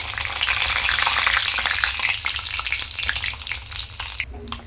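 Fenugreek, mustard and cumin seeds fry in hot oil, a loud close bed of crackling sizzle dotted with quick popping bursts from the seeds, steady throughout with no voices.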